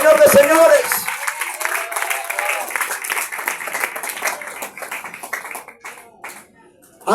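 Church congregation applauding during an anniversary service in Ecuador, loud dense clapping that gradually fades, with a preacher's voice over it at the start.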